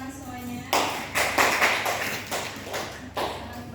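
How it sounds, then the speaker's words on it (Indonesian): A classroom of students claps together for a teacher, a dense burst of many hands that starts abruptly and runs for about three seconds in uneven surges, with voices faintly underneath. "Boleh tepuk tangan semuanya"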